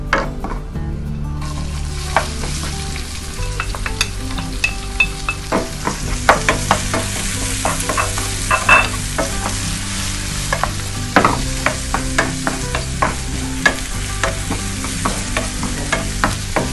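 Chopped medium onion tipped into a pan of popped cumin seeds, frying with a steady sizzle while a utensil stirs and scrapes in repeated clinks, close and continuous with no talking.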